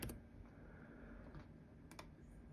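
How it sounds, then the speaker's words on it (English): Computer keyboard typing while searching a display settings menu on a FydeOS machine, a steady run of light, quick key clicks lasting throughout, close and moderately quiet with no talking. "If I find settings, I'll start typing it."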